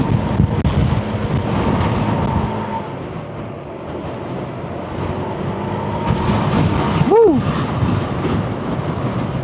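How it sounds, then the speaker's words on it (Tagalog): A strong, cold mountain wind roars and buffets the microphone steadily throughout on a mountain backroad, with a brief whistling tone rising and falling near the end. "Grabe, ang lakas ng hangin."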